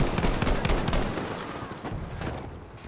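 Gunfire from a Selbstlader 1916 semi-automatic rifle in Battlefield V, dense loud shots amid battle noise, tapering off toward the end.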